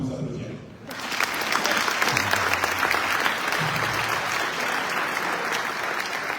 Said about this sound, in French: On peut nous applaudir.